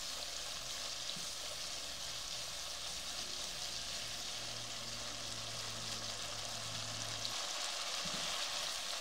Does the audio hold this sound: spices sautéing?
yes